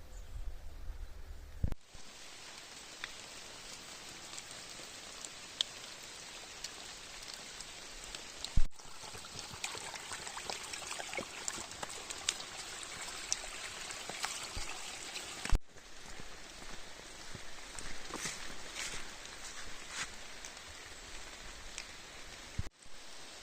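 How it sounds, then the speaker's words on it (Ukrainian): Light drizzle falls in misty Carpathian mountain forest, a soft, steady hiss broken by scattered faint drips, with no voices. "але тумани, паде дрібний дощик."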